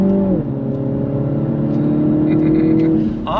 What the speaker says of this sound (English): Slow roll, first gear, on throttle, here we go.